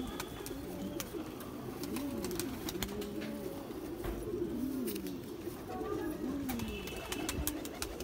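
Pigeons of an old Rampur colour breed coo repeatedly in overlapping, rolling calls, fairly close and steady, with scattered sharp clicks and bumps of a loft around them.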